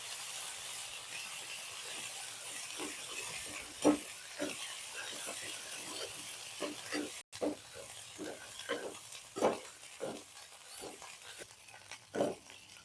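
Masala frying in hot oil for a spicy chicken curry sizzles steadily and softly while a spoon stirs and scrapes it through the pan at an irregular rhythm.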